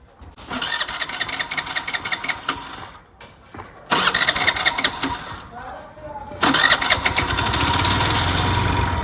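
A small scooter engine cranks and catches more than once, each start settling into a buzzing idle that grows louder and holds steady.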